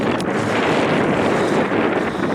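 A sailboat gets under way after raising anchor, heading out to sail upwind, with steady, loud wind buffeting the microphone and a broad rush of water and hull noise throughout; no voices.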